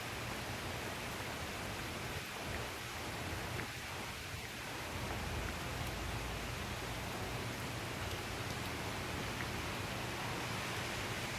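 Steady rain falls outside by a front porch, a constant close hiss of drops without talk, with a few brief low murmurs partway through.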